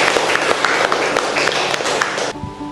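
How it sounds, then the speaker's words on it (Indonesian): A classroom of students claps for a classmate, a brisk burst of many hands that stops abruptly near the end, followed by a faint voice. "Oke, tepuk tangan untuk"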